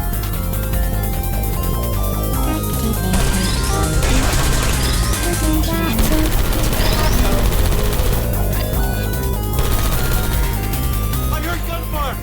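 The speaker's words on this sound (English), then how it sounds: "I heard gunfire!" Gunfire in the video game Portal 2: loud, dense bursts of rapid shots and crashing impacts, layered over steady game music and effects for several seconds.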